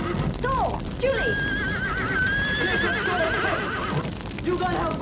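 Horses neigh and whinny loudly, several shrill wavering calls overlapping, with hooves clattering and people shouting in the background.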